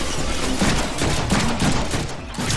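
Rapid bursts of gunfire from guns in the Deadpool video game on Xbox 360, loud and continuous with repeated shots crowding together, no talking over it.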